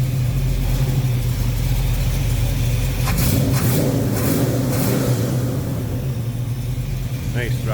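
A 1972 Dodge Challenger R/T tribute with a 340 V8, headers, four-barrel carburetor and Edelbrock intake idles with a deep rumble, then gets blipped into a few quick revs before settling back, close by, with some talk over it.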